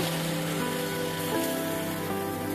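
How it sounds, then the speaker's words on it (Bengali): Yardlong beans, flat beans and bitter gourd sizzle in oil in a frying pan, a steady dense crackle and hiss close up, with no voices. "এবারে দিয়ে দিব বরবটি সিম করলা সব সবজিগুলোকেও ভালোভাবে ভেজে নিব"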